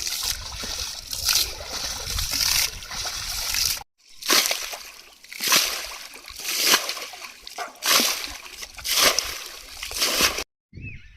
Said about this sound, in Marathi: चला आता मी पण उपसू लागते